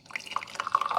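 Hot water pours into a glass to warm it for a hot toddy, a short run of bright trickling and dripping splashes that rise in pitch as the glass fills, close and fairly quiet.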